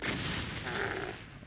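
A single explosion in Ultimate DOOM, a loud rumbling blast that rolls out and fades over about a second and a half.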